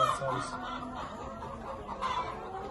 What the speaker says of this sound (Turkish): Karataş tavukçuluk parkıyla 800 adet Lohman sendilerimiz Bayram Bey'in kümesine sağlıklı bir şekilde indirildi